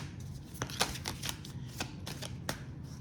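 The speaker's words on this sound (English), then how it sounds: "I'm a very good shuffler today." Playing cards being riffled and shuffled, a series of quick papery flutters and snaps over a low steady background hum, close by.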